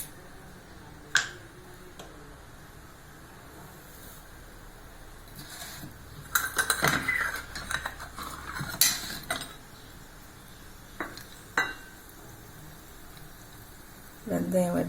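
Fenugreek seeds crackle and pop in hot oil in a cooking pot, giving scattered sharp snaps and clinks. A few louder bursts rise over a low background, with speech heard along with them.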